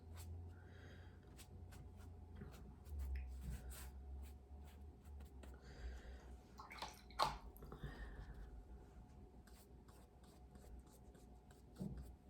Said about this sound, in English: I'm going to wet my brush, get that nice and clean